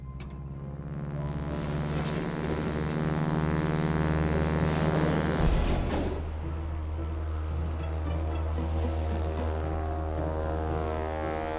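A small plane flies over the Alaskan wilderness with a steady, droning engine and propeller hum heard from inside, holding at an even level with a brief rushing swell midway.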